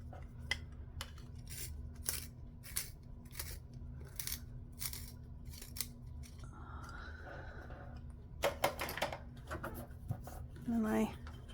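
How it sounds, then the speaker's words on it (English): Pencil being sharpened while binding a journal: a run of short, evenly spaced scraping strokes at close range, followed by scattered handling and rustling sounds, with a steady low hum underneath. "I'm going to sharpen my pencil a little bit."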